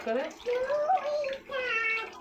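Bitter gourd rinsed under a running tap before cutting, a steady wash of water running beneath someone speaking Bengali throughout.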